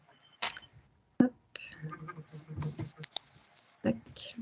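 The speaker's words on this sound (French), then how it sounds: "on a un oiseau qui chante." A small bird sings outdoors during a talk on swallows, high thin warbling phrases rising over soft, intermittent speech from a nearby presenter.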